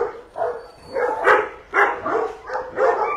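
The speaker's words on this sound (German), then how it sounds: "Herr Ibrahim, wie viele Hunde hast du denn hier?" Several dogs at a dog hotel bark repeatedly in loud, close, overlapping bursts, a steady run of barks with short yips throughout.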